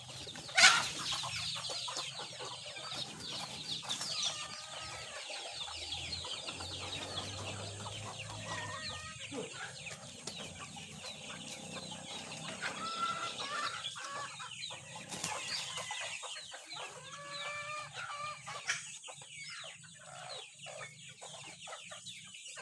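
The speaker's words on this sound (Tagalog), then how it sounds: "Ito yung ating mga sisiw." Hungry chicks and chickens crowd together, clucking and cheeping in busy overlapping bursts, with a rooster-like call near the start, close and lively over a farmyard background with no talking.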